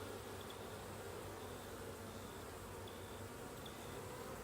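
Honeybees buzzing steadily at an open hive during a brood and honey frame inspection, a close, continuous droning hum without talk.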